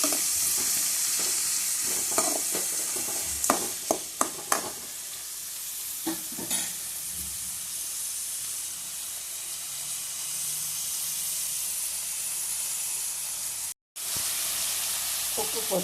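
Finely chopped onions sautéing with salt in a pan for Tamil-style chicken curry, a continuous loud crackling sizzle and hiss with a few early spatula knocks and scrapes, briefly dropping out near the end.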